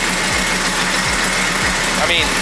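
A lighting generator engine runs and idles steadily outdoors, a continuous mechanical drone with periodic low thumps, while people talk over it.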